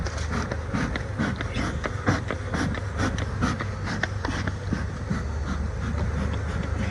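Honey bees swarm around an open beehive during honey harvesting, a steady buzzing drone mixed with rustling and handling noises, close and fairly loud.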